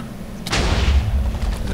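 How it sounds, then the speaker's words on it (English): A Minecraft TNT block detonating: one sudden loud blast with a sharp crack and a deep rumbling tail that lingers to the end. "There's an explosion."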